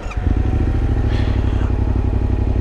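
A Yamaha Tenere 700 motorcycle engine catches after a brief starter crank, then settles into a loud, steady idle with a throbbing, regular pulse, close by.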